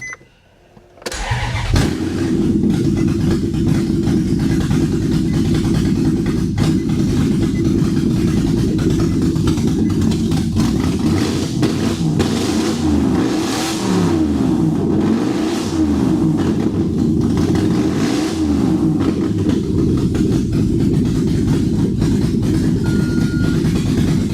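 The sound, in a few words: straight-piped Maserati Quattroporte S engine running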